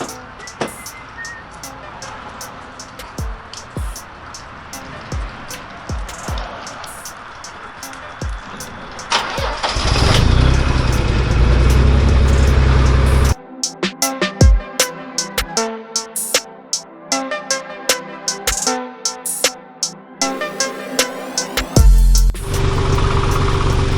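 A Nissan 300ZX twin turbo engine cranks and starts, then settles into a loud, steady idle with rough, pulsing exhaust, close by, with someone talking over the quieter lead-in before it starts.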